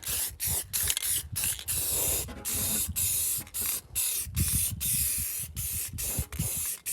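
An aerosol spray can hisses onto the cab of a 1983 Ford D150 truck in a string of close, loud bursts, each cut by short pauses as the nozzle is released and pressed again.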